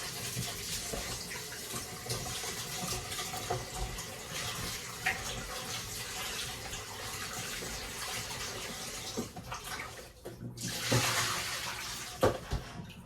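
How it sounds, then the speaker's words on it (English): Oxtail meat being rinsed under a running kitchen tap, a steady wash of water with faint splashes and a brief louder gush near the end, with no talk. "So now I'm going to rinse. I will give it another rinse."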